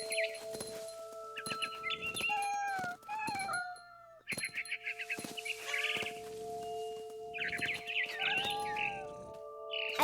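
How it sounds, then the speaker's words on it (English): A barn swallow chirping in the video game What Remains of Edith Finch: bright, close twittering calls in quick bursts over a steady background hum. "Then I heard chirping outside my window. It was a barn swallow going back to her nest."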